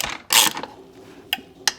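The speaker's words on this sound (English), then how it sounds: "use my normal ratchet handle just to get this till I get her just snug" A ratchet handle snugging a frame slider bolt on a 2019 Kawasaki ZX6R, with a loud burst of clicking followed by two short separate clicks, close up.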